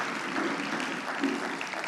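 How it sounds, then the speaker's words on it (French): Convention audience applauding speakers at the close of a morning session, a steady dense wash of clapping from a crowd that holds at even loudness throughout. "on va applaudir très fort nos intervenants et leurs éclairages."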